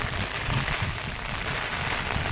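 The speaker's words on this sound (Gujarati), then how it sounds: "આજે વરસાદ ચાલુ જ છે ધીરો ધીરો ધીરો" Light rain keeps falling on a wet, puddled ground, an even soft hiss with faint low drips, steady and unbroken, no one speaking.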